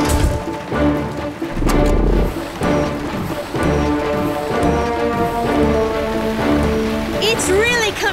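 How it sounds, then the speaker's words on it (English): Heavy cartoon rain pours in a flooding hurricane scene, a dense continuous downpour mixed with music and a crash, with a voice speaking over it near the end. "It's not just raining, it's flooding!"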